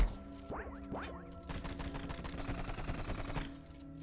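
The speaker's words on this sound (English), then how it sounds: "I'm gonna shoot all the walls." Rapid shooting at walls in the game Rusted Moss: two rising chirps open, then a fast, even stream of sharp, fairly quiet shots runs for about two seconds before stopping, with no voice.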